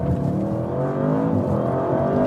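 An Audi RS7 Performance with all-wheel drive accelerating, its engine pulling loud and close with a steadily rising pitch and no talk.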